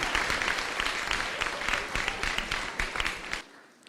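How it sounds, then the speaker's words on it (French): A theater audience at a live stage show applauds for the earth, loud, dense clapping from many hands that runs continuously and then cuts off abruptly near the end. "Applaudissez pour la terre."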